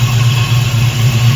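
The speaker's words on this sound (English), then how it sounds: "Sounds a little tinny. That's that aluminum intake manifold on top." A classic car engine with an aluminum intake manifold idles steadily and loudly up close, a continuous low rumble with a slightly tinny edge and no voices.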